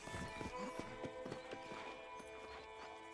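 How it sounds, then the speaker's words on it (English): A horse's hooves clip-clop at an even walking pace in the Western video game Red Dead Redemption, clear and steady over a faint background music bed. "Okay, let's see if you can still ride a horse."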